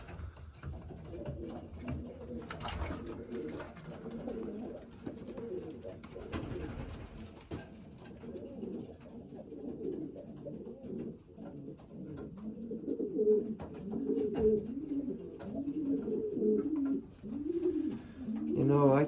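Racing pigeons coo steadily in a loft, several birds overlapping in soft repeated throaty calls, close by and moderately loud throughout.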